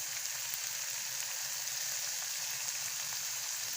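Noodle masala, soy sauce and egg frying in a pan, giving a steady, even sizzle that hisses continuously at moderate loudness with faint stirring beneath and no voices.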